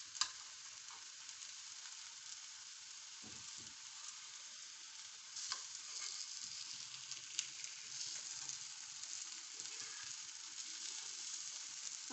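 Small parathas frying in ghee in a pan, a soft, steady sizzle with a few faint clicks and scrapes, fairly quiet and close.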